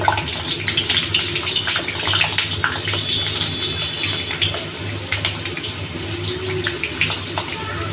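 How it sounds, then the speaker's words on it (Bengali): Small whole potatoes fry in hot oil for a vegetarian aloo dum, making a steady, dense, close bubbling sizzle that continues throughout without pause. "আমার এখানে ছোট ছোট আলু, তাই আমি কাটিনি, আমি গোটা আলুই ভেজে নিচ্ছি। আলুগুলোকে লাল করে ভেজে নেব।"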